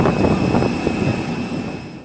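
A passenger airplane's engines roar steadily and loudly nearby as people board, forming a continuous, even drone that fades slightly toward the end.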